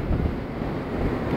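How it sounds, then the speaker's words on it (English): Steady wind buffeting a microphone, a continuous low rumbling roar with no breaks and no voices. "it's a very windy day, guys."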